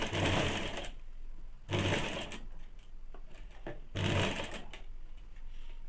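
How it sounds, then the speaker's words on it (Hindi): Sewing machine stitching blouse sleeves: a steady, close mechanical whir with three louder surges of fast stitching at regular intervals, no talking. "इसी प्रकार से दोनों हाथ का हम लोग सिलाई कर लेंगे"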